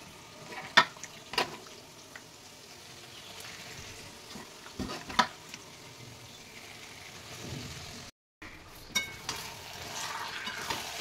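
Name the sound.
marinated chicken frying and stirring with spices in pan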